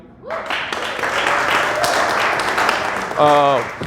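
A crowd claps and applauds steadily for a few seconds, with a voice speaking briefly just before and a loud voice rising at the end.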